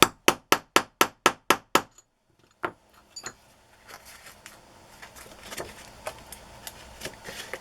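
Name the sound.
hammering a metal embellishment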